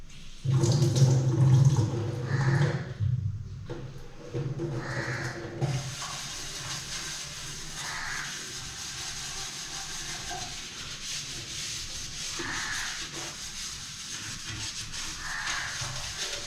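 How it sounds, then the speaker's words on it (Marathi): Running water and scrubbing at a washbasin being cleaned with handwash: a loud, steady wash of water that eases into a lighter, continuous splash and rub, with no voices. "आता हे क्लीन केल्यावर तुम्हाला दाखवतो बघा क्लीन करायला आपल्याकडे हँडवॉश पण आपण चांगल्या क्वालिटीचं ठेवलेलं आहे"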